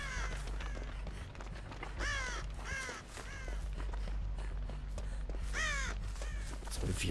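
Crows caw repeatedly in the horror video game Dead by Daylight, several harsh calls spaced across a steady low ambient drone, moderately loud with no talk.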